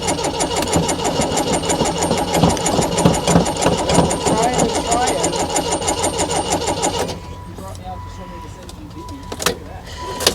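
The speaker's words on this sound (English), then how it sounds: "I'll give it one more crank, but Mike says it's got old gas in it" An old car engine cranks steadily on stale fuel without catching, a rhythmic whirring starter grind that runs for about seven seconds and then stops, leaving quiet background with voices talking.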